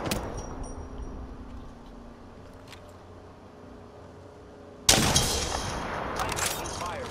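Gunfire in the Apex Legends video game: a low rumbling ambience gives way to a sudden loud burst of rapid shots and impacts near the end, close and harsh.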